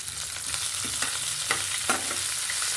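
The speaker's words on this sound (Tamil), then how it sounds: "வெங்காயம் சேர்த்துக்கிறேங்க. ஒரு 3 நிமிஷம் வதங்கினா போடுங்க." Onions sauté in a pan of tempering for bitter gourd poriyal, a steady close sizzle of hot oil broken by a few soft spatula scrapes.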